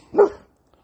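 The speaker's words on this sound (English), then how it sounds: "That's my dog." A single short, loud bark from a dog, close by, followed by near silence.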